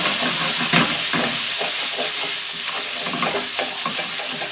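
Ginger and garlic fry in a wok for a tofu stir-fry, a loud continuous sizzle and hiss broken by repeated scraping stirs of the spatula, close and with no talk.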